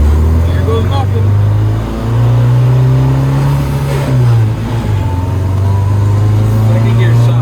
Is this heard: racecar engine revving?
yes